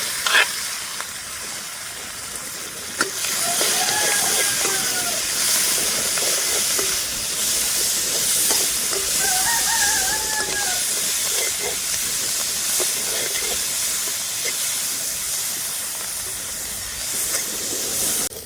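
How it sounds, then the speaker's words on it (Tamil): Onions and green chillies sautéing in hot oil in a village kitchen while making rava vada, a loud continuous crackling sizzle that holds steady throughout with faint clinks from stirring. "நல்லா கொதிச்சுட்டு நான் எடுத்து வச்சிருக்கிற வெங்காயம், பச்சை மிளகாய், எல்லாத்தையும் சேர்த்து வதக்கலாம்"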